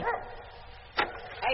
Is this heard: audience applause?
no